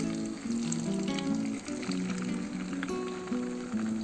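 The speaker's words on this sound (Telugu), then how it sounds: "మ్యారినేట్ చేసి పెట్టుకున్న ఫిష్ని ఒక్కొక్కటిగా వేసుకోవాలి. స్లోగా మనము ఫ్రై చేసుకోవాలండి." Marinated king fish fries slowly in hot oil with a steady, dense sizzle and crackle, close and continuous throughout.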